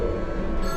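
A telephone rings in a Doctor Who audio drama, a brief electronic bell-like trill heard clearly and alone.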